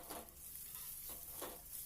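Ground cumin, Kashmiri chilli and coriander being sautéed in a pan, a faint soft sizzle with a few scraping stirs of a spoon across the pan.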